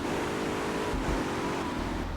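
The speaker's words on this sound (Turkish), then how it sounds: "Burada araba var şimdi." A car engine revs in the video game GTA Vice City, a steady mid-loud motor drone with a low rumble swelling near the end. No one speaks over it.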